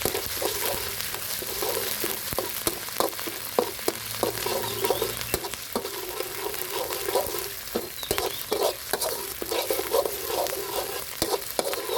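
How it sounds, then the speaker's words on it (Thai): Red curry paste is stir-fried in oil for chu chee crispy fried tilapia, giving a steady sizzle broken by repeated scraping and clacking of a spatula against the pan, with no talk. "พริกแกงแดงประมาณ2ช้อนหรือว่าประมาณ 50 กรัมนะครับผม ใส่ลงไปผัดกับน้ำมันให้หอมนะครับ"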